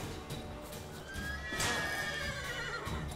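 A horse in The Witcher 3 gives a shrill, wavering whinny partway through, set against a steady background bed of game ambience and faint hoof clatter, with no one speaking.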